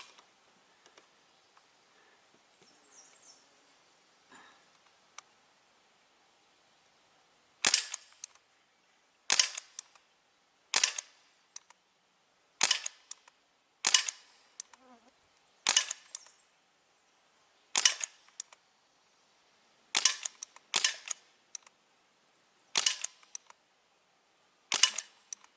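Crosman 1077 air rifle firing twelve shots in a steady sequence, each a sharp, close snap spaced roughly a second or two apart, with quiet handling sounds before the first shot.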